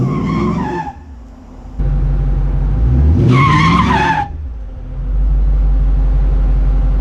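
A Dodge SRT8 spins its sticky 17-inch drag radial tires in loud, rising squeals over heavy engine rumble, with two distinct screeching bursts near the start and middle.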